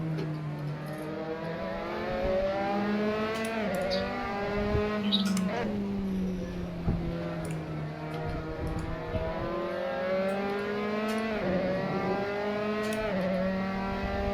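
An F3 race car laps Fuji Speedway during a race, its engine note rising and falling through gear changes in a loud steady whine with occasional sharper clicks, the driver's voice faintly present beneath.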